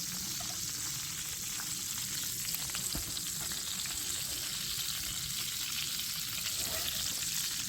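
Steak and liquid sizzle steadily on a slanted camping grill outdoors, a dense continuous frying hiss that stays close and fairly loud throughout, with faint low rumble beneath and no voices.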